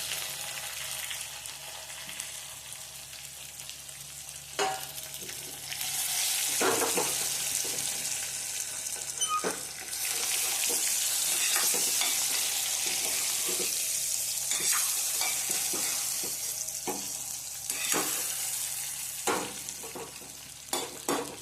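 Stuffed ridge gourd frying in oil with onion in a pan while a spoon stirs it, giving a steady close sizzle broken by repeated scraping strokes and clacks.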